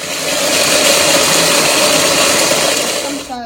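A Moulinex food processor grinds toasted almonds with a loud, steady motor whir that runs nearly unbroken for several seconds, then tails off abruptly at the end.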